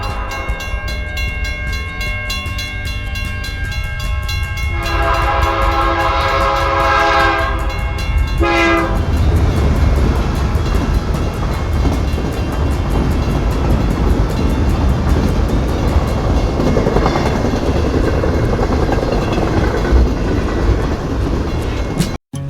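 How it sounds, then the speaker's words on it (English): A model train runs steadily with a continuous rumbling, clattering drive, while a sustained multi-tone horn sounds loudly for several seconds near the start before the running noise carries on alone. "everybody loved to see a model train in action"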